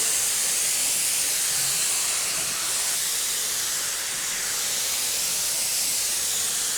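Spray gun misting light coats of brown paint through a filtered Teflon hose for a faux wood finish, a steady loud airy hiss running unbroken throughout with no talking.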